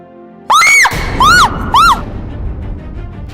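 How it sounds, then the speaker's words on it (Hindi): A woman lets out three loud, piercing screams in quick succession, each a rising-and-falling wail, in a Hindi domestic drama set in a family home where a snake has appeared; a low noisy background continues afterward. "चिल्ला क्यों रही थी?"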